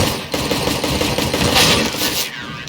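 Rapid automatic gunfire in Counter-Strike: Global Offensive, with dense bursts of shots rattling almost without pause across the stretch and one sharp crack standing out partway through.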